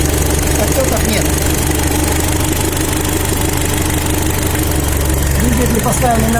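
A cold Mitsubishi Pajero 4D55-T turbo diesel engine, set up on a test stand with a radiator, idles loudly and steadily with a rough, knocking diesel rhythm, voices faintly audible beneath it.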